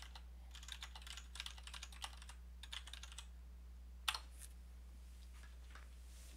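Keys on a computer keyboard clatter in quick bursts of typing with short pauses between them, faint and close over a steady low electrical hum.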